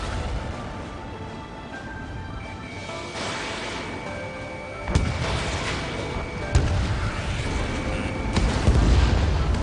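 Missile impacts and explosions in the Ace Combat 7 aerial combat game, with a steady roar of battle, sharp booming hits near the middle and end, and heavy rumbling blasts building toward the close.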